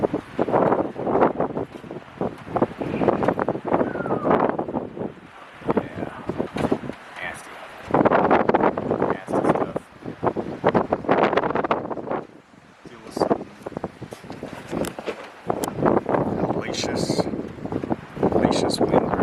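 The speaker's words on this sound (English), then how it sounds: "Hellacious wind right now." Gusty mountain wind near Estes Park, Colorado, during the Cameron Peak wildfire roars and buffets the microphone in heavy surges with brief lulls, and voices are faintly present at times.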